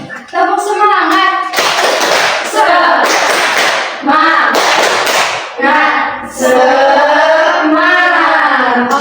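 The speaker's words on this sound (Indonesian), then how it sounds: "Oke, kita tepuk semangat dulu ya." An elementary class doing a rhythmic group spirit clap, several bursts of synchronized hand claps in a patterned beat alternating with children chanting and shouting together.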